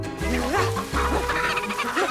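Chicken clucking in quick, close bursts, short rising and falling calls repeated several times over a brief stretch, fairly clear with light background noise.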